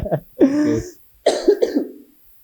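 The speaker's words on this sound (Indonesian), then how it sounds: "gue batuk mulu" A person coughs and clears their throat in short, close bursts, with brief pauses between them.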